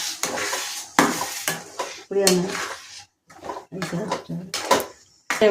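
Masala being sautéed in a pan for a Tamil-style chicken curry: intermittent scraping and clinking of a ladle against the pan, with faint sizzling, close by and stop-start, interleaved with brief sounds of a person talking.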